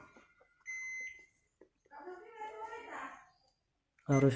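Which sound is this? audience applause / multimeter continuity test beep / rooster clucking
multimeter continuity test beep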